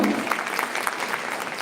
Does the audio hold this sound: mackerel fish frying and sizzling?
no